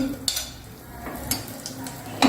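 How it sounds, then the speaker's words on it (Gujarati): Cumin and mustard seeds frying in a small amount of ghee, a soft continuous sizzle with a few sharp pops and a light clink of a utensil against the pan near the end. "બહુ જ ઓછું ઘી લીધું છે કારણ કે આપણે ઘીથી ઉપર પછી વઘારવાના છીએ અને એમાં મેં એક ચમચી રાઈ નાખી દીધી છે મેં જીરું લીધું છે તો તળવા માંડ્યું છે"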